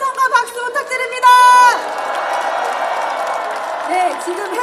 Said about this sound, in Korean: 우리 샤우팅 코리아에게 다시 한번 큰 함성과 박수 부탁드립니다